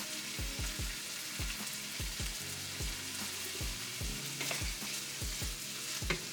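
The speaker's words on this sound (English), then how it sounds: "And give that a nice little stir" Beef Spanish rice, seasoned with fajita seasoning and garlic and herb butter, sizzles steadily in a pan while a utensil stirs it, with repeated low scraping thumps in a loose rhythm and no voices.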